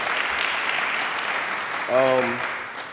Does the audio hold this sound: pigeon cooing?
no